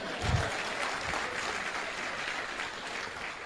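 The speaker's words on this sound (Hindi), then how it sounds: "बजाओ ताली भाई।" A small indoor group claps together, a dense spread of handclaps that starts with a thump and continues evenly before tapering slightly.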